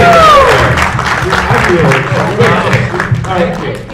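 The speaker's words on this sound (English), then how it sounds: "Give us a round of applause." Audience at a ComiConn 2018 convention panel bursts into loud, sustained clapping that fades slightly toward the end, with some voices and cheers mixed into the crowd noise.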